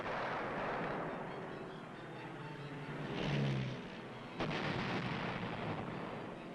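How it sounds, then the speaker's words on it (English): Archival wartime-style footage of aerial precision bombing against old German battleships used as targets, with a dense rumbling roar, a swelling blast near the middle and a sharp burst of explosive impact afterward, continuous and fairly loud with no talk. "Using some old German battleships as targets, Billy Mitchell showed what precision bombing could do."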